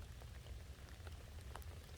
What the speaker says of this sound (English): Looks like it's starting to rain here.